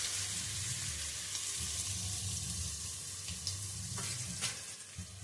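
Onions frying in a pan with fenugreek seeds, a steady close sizzle with occasional stirring scrapes and light clinks toward the end, no talking.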